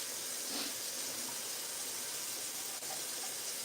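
Canned black beans drained through a strainer in a kitchen sink: a steady, even wash of running liquid with a faint hiss, continuous and close, with no talking.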